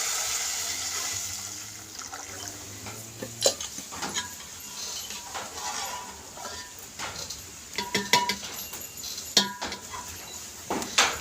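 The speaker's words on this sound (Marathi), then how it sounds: "तर यामध्ये मी पाणी घालणार आहे" Water splashes and pours into a metal pot of egg biryani on a wood-fired stove, with scattered clinks and knocks of utensils and stirring noises, fairly close.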